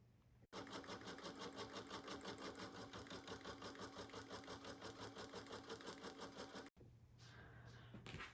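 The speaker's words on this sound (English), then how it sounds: "I'm gonna put it back in the machine, and it's gonna run the next placement stitch for me" An embroidery machine runs a placement stitch on hat and scarf bear fabric in the hoop, a fast, even mechanical rattle of needle strokes lasting about six seconds, then it stops and a quieter hum follows.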